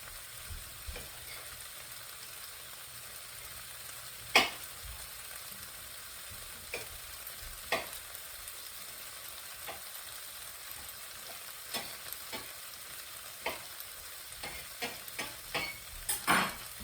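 Garlic frying in a pan for a sausage and peppers dinner, a steady soft sizzle with occasional faint ticks and stirring clicks, close and quiet with no talk.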